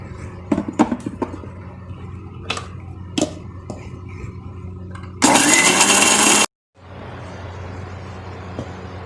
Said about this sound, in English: inside the small jar, along with 2 small spoons of cumin seeds, and I will grind this